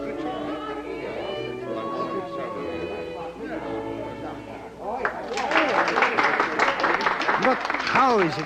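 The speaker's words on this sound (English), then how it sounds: "and yet the storm of applause is not abated" An audience breaks into a storm of applause after a woman's singing, the dense clapping swelling in after roughly five seconds over the tail of the song and carrying on loudly to the end.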